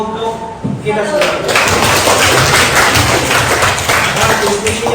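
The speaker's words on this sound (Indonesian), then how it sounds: "Tepuk tangan untuk kelompok kita semua." Dense applause from a group of students in a classroom during a teacher-training practice lesson, loud and sustained for several seconds, with talking over it.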